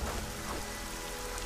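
Rain falls in the fantasy video game ArcaniA, a brief, steady, moderately faint hiss of raindrops spread evenly throughout.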